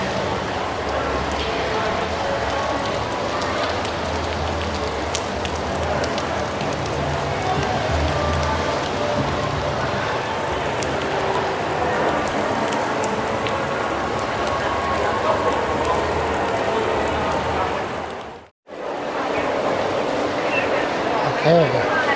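Steady rain falls on surfaces around a walkway near VivoCity mall and Sentosa, a constant broadband hiss that continues throughout with brief footstep-like sounds, cutting out for a moment near the end before resuming.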